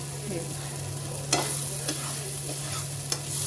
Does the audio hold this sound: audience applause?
no